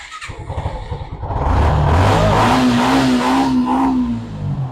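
A ten-year-old Bajaj Pulsar LS disc-brake motorcycle idles with a choppy, pulsing beat, then is revved up into a loud, sustained roar that wavers before easing slightly.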